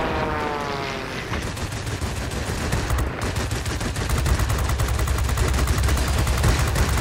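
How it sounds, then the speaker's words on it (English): Aircraft cannons fire in long rapid bursts during a World of Warplanes air battle with FW-159 and BF-109E fighters, a loud continuous hammering rattle over engine drone. "see those cannons. They chew right through a plane really quick."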